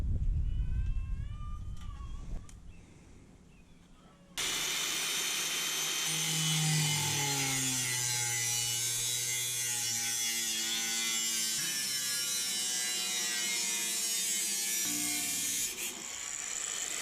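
A stainless steel chimney flue pipe being cut to length with a power tool, loud grinding and sawing noise that runs steadily for about ten seconds and then stops.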